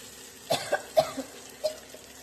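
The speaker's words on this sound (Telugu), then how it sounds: "నోట్లోకి ముక్కులో కళ్ళలోకి వెళ్ళిపోయి కొంచెం దగ్గొచ్చేసింది" Several sharp coughs from someone breathing in fumes of spice tempering (tadka) in a kitchen, with salt and turmeric frying in the pan. The bursts come close together, with short pauses between them, and are not mixed with talk.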